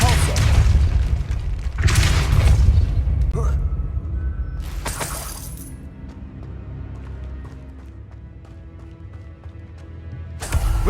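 Spell impacts in the video game Hogwarts Legacy land as loud booming, shattering bursts, one near the start and another around the middle, over a rumbling game soundscape with a voice speaking.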